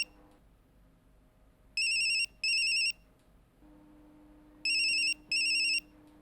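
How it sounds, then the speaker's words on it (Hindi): A mobile phone ringtone in a TV crime drama plays electronic double bursts twice, each pair loud and clear with a short gap between, over a quiet low hum. "पार्थो का मोबाइल"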